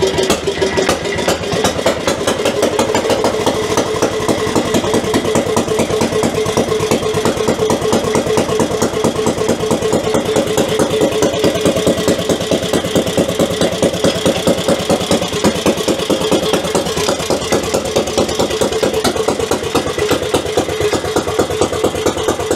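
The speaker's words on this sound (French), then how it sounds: "On accélère un petit peu, on vérifie qu'il soit débrayé" A small engine runs at a steady, fast, throbbing idle close up, loud and even throughout with a slight rise as the throttle is opened.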